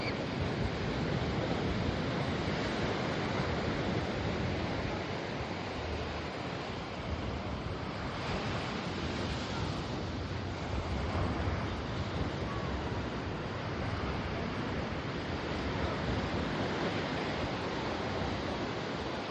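Ocean waves wash onto Candolim Beach in North Goa as a steady, dense roar of surf blended with wind buffeting, continuous and without talk.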